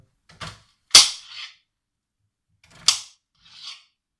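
Knife slicing all the way through food on a cutting board while preparing spaghetti bolognese, four short sharp crisp cuts and taps in two pairs, close and alone.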